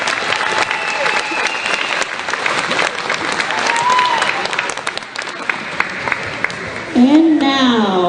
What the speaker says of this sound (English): Ladies and gentlemen, please give a round of applause to this year's Wrestling Homecoming Tour.